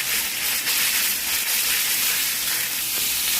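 Minced pork hits hot oil with garlic in a pan, giving a loud, steady, close sizzle and crackle that runs unbroken, with faint stirring underneath.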